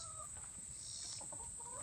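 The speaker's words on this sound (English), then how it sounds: "let me show you the chickies real quick. They're hens." Hens kept as backyard chickens give a few soft, close clucks over a steady high-pitched background tone.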